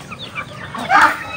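Chickens, including Texas and Barako roosters, cluck in a short burst of calls that builds to one louder, nearer squawk near the end, with no talk over them.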